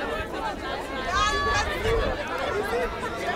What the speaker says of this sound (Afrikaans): 'n Welkome skare vandag.